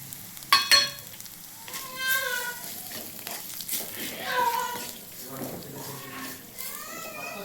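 Whole spices sizzling in hot oil in a pan on a stove turned to low for masala chana, a steady close frying crackle with stirring, while a voice talks over it and a voice is heard briefly.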